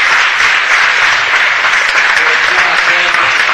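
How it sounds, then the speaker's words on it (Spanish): A city council meeting room fills with sustained, loud applause from the audience, dense and even throughout with no break. "De hecho, un aplauso para él."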